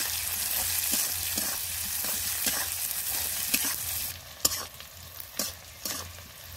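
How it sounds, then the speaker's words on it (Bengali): Chopped onion fries in a pan with a loud, continuous sizzle and stirring scrapes. It thins to quieter crackles with a few sharp clanks near the end. "কুচি করা পেঁয়াজ, পেঁয়াজটা ভালো করে ভেজে নেব।"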